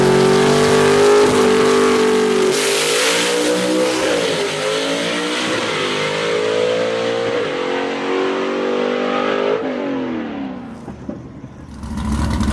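A loud gasser drag race car at Knoxville Dragway revs and roars as it drives around the corner, engine pitch rising and falling close by before fading out at the end.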